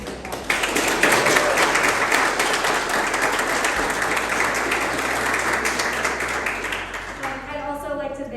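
Sustained audience applause fills an opening reception for an art exhibition on endangered animals, dense clapping held steady for about seven seconds before thinning out as a few voices and scattered claps linger.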